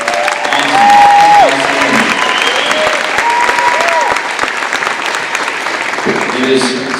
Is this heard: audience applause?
yes